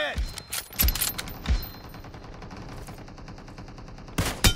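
Gunfire rings out in a BGMI (Battlegrounds Mobile India) 8v8 arena match: several sharp, loud shots early, a faster burst near the end, and mechanical clatter between them.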